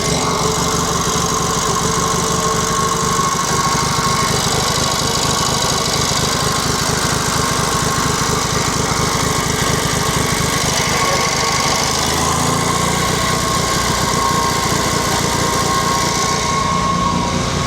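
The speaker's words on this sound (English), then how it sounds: "Well, we got it working. I'll just give her a second, warm her up a TVO, petrol, then we swap her over onto TVO." A JAP 55 stationary engine, set to run on petrol before switching to TVO, chugs continuously as it warms up, a steady, close mechanical beat with a constant level throughout and no voices.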